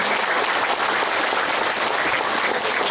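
A crowd at an election campaign speech in Tanah Bumbu Regency, Indonesia, breaks into dense, loud applause that holds steady for the whole stretch, with no speech over it.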